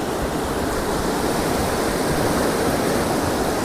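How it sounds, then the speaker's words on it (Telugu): A forest stream splashes against rocks near a campsite deep in the woods, making a dense, unbroken rushing wash that stays loud and close from start to finish, with nobody talking. "వాటర్ రాళ్ళని కొడుతున్న సౌండ్ దుబ్ దుబ్ దుబ్ అని వస్తుంది నాకు"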